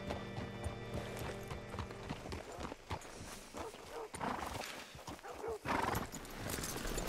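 Steady clip-clop of horse hooves walking close by in Red Dead Redemption 2, with a brief whinny and some background rumble throughout.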